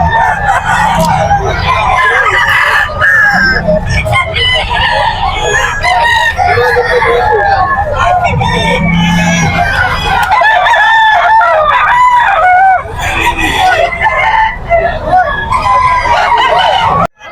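Roosters crow repeatedly at a busy pre-dawn chicken market in Bocaue, Bulacan, loud and close, layered over clucking fowl and a steady crowd murmur with people talking throughout.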